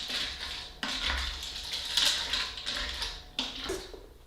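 A spoon stirs one-pot vegan mac and cheese in a pot, making close, intermittent metallic scrapes and clinks against the pot in a few short bursts with brief pauses, no talk.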